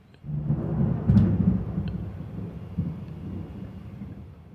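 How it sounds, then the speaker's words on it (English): Natural thunder rumbles low and heavy through a summer storm, a rolling roar that swells, peaks, then slowly fades over several seconds with no voices. "I've got this great sound of thunder"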